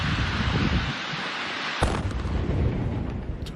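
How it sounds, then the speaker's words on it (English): A large wartime explosion sends a fireball outward toward a street in Ukraine. The sound is a heavy, continuous roaring rumble with one sharp crack partway through, loud and unbroken, with no voices. "That was a big explosion."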